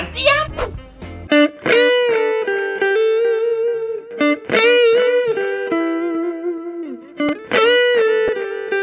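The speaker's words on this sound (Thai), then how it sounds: "เสียงดีเลย์โซโล่ของคุณอ่ะจะหวานอย่างแน่นอนหวานเจี๊ยบ" Electric guitar through a Valeton Dapper Mini multi-effects pedal using delay for solo playing, sustained single lead notes and bends with repeating echoes trailing off, a short spoken bit at the start.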